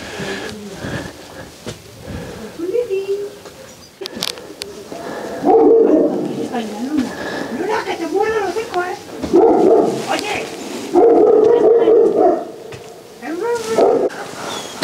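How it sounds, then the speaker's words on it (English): Dog barking in bursts, some near and loud, mixed with pigeon-like cooing and people talking throughout, at a motorhome park by a gothic castle in Ampudia, Spain. "I just wonder where the barking was coming from"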